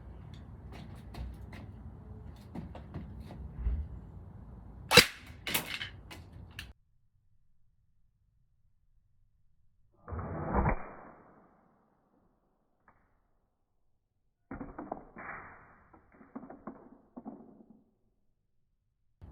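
Air gun firing BBs at a carbon fiber target, powered by an 11.1 volt LiPo battery: a few sharp, close cracks and bursts of impact noise, separated by stretches of near silence.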